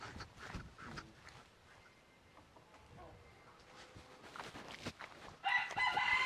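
A rooster in Vilcabamba, Ecuador, crows near the end after quieter stretches of faint clucks and scattered rustling, the final call loud and close.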